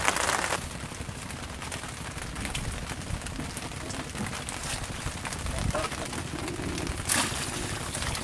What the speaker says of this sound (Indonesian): Lagi kehujanan bos, lagi kepater ya hujan.